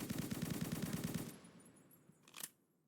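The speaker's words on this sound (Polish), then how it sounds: "A, ty do mnie strzelasz." Rapid automatic gunfire in a video game, a fast burst of shots for about a second, then a short single blast, heard loud without talk.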